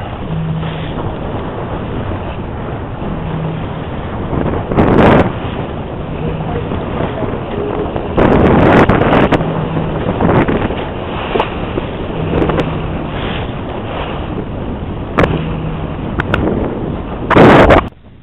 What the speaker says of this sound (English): the wind has come down quite a bit now